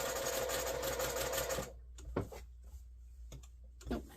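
A sewing machine reinforces the seams of a fabric heat pack cover, running steadily for about a second and a half, then falling quiet apart from a few short stitch bursts and clicks.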